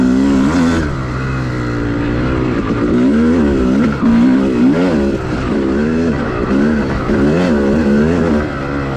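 An off-road motorcycle engine runs loud and close on an OHV cycle trail, its idle wobbling and rising in repeated revs throughout.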